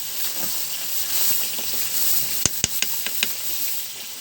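Spiced doi katla, a Bengali yogurt katla fish curry with coconut, fries in a pan with a steady loud sizzle, broken by a few sharp clacks of a spatula stirring near the end.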